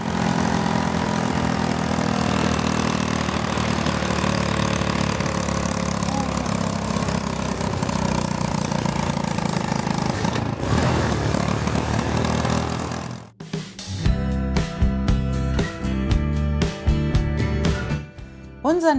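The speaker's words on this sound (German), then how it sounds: "Und wir können da auch nur im ersten Gang mit Motorbremse runterfahren." A motorbike engine-brakes downhill in first gear, a steady mid-pitched droning whine held for about thirteen seconds, close and loud, before it cuts off and music takes over.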